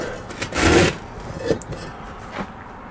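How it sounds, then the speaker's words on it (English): Fire bricks of a forge scrape and grind as they are slid back together on a bench, one main rasping push followed by a couple of lighter scuffs, close and brief. "My forge is falling apart. Let's slide that back together real quick."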